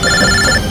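A telephone rings with a bright electronic tone, loud and close, in a short continuous burst with no voices over it.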